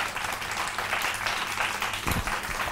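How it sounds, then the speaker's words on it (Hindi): A studio audience on a Ramadan iftar television show claps in a loud, dense, continuous burst, with a low thump near the end. "ऑडियंस की तालियां बताएंगे कि मुझे उनकी तरफ आना है या नहीं आना है।"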